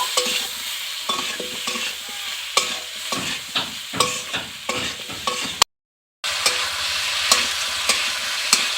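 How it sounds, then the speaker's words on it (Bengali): Fish being stirred in a pan with turmeric, chilli powder and slit green chillies, pond mourala fish curry cooking: repeated scraping and clinking strokes over a steady sizzle, close and fairly loud, with a brief silent gap. "সব কিছু খুব ভালো করে একটু মিশিয়ে নেব"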